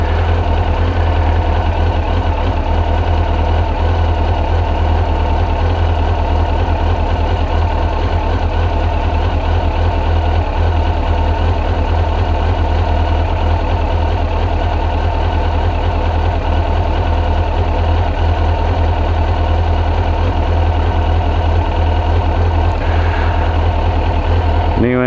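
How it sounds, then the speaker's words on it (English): A 2002 Suzuki GSX-R 1000 motorcycle engine, fitted with new NGK plugs and a K&N air filter, holds a steady idle around 1100 rpm after yearly maintenance, a continuous low loud drone filling the whole stretch. "Holding just the touch of throttle on her to keep her at 1100 till I get a temp reading."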